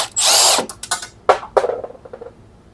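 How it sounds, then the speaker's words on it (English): A power tool spins off a big bolt during an oil change on a 2009 turbo Corolla, with a loud whirring burst followed by several shorter stuttering revs and rattling taps that fade out. "I've got a big bolt here, and I am just going to take that off."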